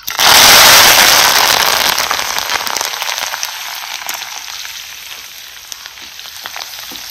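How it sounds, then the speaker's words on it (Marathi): Fresh coriander leaves dropped into hot oil for village-style bhadang chivda burst into a loud, crackling sizzle that gradually settles into a steady, softer spitting hiss. "कोथिंबीर चांगली अशी तडतड भाजायची आणि मग आपल्याला ही बाहेर काढायची."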